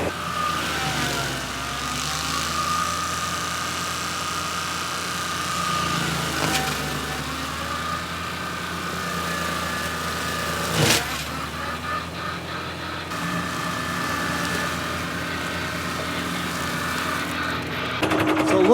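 A John Deere 5410 tractor drives a large brush mulcher that roars steadily and loudly throughout, with grinding surges and sharp cracks as brush is chewed up, close by and with no talk.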